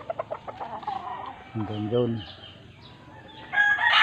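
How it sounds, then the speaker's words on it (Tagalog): Chickens cluck at a gamefowl farm's coops, and a rooster crows clearly in the middle. The calls sound near, with someone speaking briefly around them. "Yan po yung mga manok dyan."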